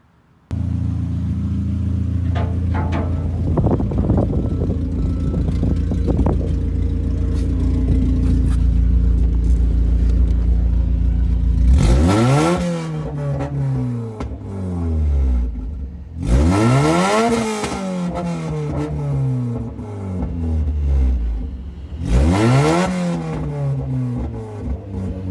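A Mazda Miata with a new header runs with a loud engine rumble, then revs hard three times, each sweep rising and falling sharply, the exhaust loud and close.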